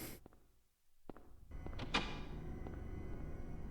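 A heavy door thuds and clanks shut as it locks in the Silent Hill video game, a sharp mechanical clunk followed by a low lingering hum, close and fairly quiet.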